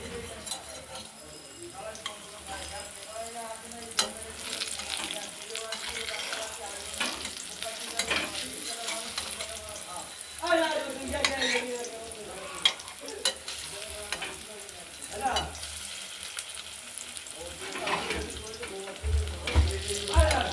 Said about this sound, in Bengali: বক ফুলগুলো ভালো করে ভেজে নেবো আস্তে আস্তে মশমশা হবে